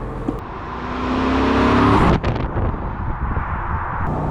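A 2000 BMW Z8 Roadster in near-new condition accelerates hard, its engine note rising steadily for two seconds before an abrupt shift, then pulling on at a lower, rumbling pitch.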